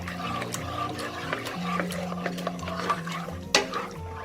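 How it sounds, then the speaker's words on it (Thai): Coconut cream with rice flour being stirred in a pot, a soft steady scraping and swishing with faint clinks of the utensil against the metal, close and continuous. "ค่อยคนค่ะ"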